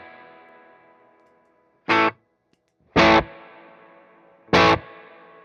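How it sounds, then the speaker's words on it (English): Electric guitar played through a wet amp with the reverb turned off: three short, loud distorted stabs with pauses between, each trailing a slight residual reverb tail. "When I have the reverb turned off, there's still a little bit of reverb that comes from my wet amp."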